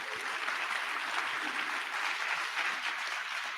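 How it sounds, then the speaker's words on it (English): Audience applause at a live tech conference talk, a continuous, even patter of many hands clapping, fairly distant and quiet, with no speech over it. "Can I get a round of applause?"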